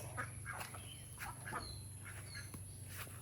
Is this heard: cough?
no